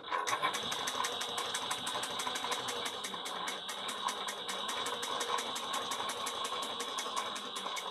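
A sewing machine runs steadily, stitching fabric for a travel bag, with a fast even chatter of needle strokes continuing for the whole stretch at moderate volume, no talking.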